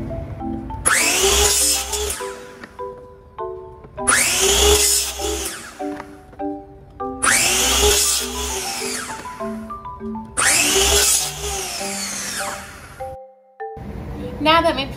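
A power saw cutting PVC pipe for a chair build, four separate loud cuts of a few seconds each, with pauses between and a short tonal electronic chime-like pattern around them.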